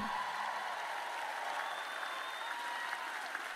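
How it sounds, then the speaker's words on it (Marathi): An audience at a church sermon applauds, a dense, steady wash of many hands clapping at moderate distance throughout, with faint crowd murmur underneath. "तुम्ही टाळ्या वाजवता याचा मला आनंद आहे"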